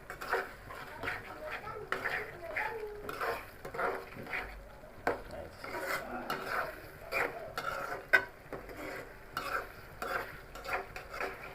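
Food stirred in a cooking pot, slightly catching on the bottom, with rhythmic spoon scrapes and clinks against the metal over a low sizzle, fairly close and continuous.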